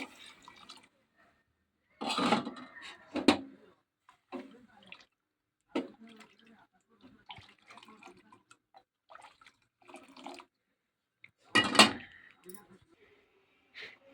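Water swirled and poured out in a home kitchen while cooking, heard as a few sloshing, splashing bursts separated by quiet gaps, with people talking softly in between.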